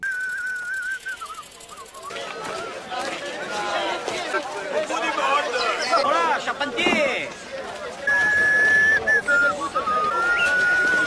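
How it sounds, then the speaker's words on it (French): A person whistles La Marseillaise, a sustained melodic tune, clear and fairly close, at the start and again near the end, with lively chatter from several voices in between during an outdoor metal-detecting outing. "Tu sifflotes, pitchoun."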